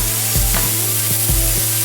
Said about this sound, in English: You like the sizzling sound it makes.